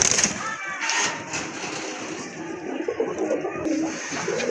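A pair of active pigeons coos steadily close by, with someone talking over them throughout.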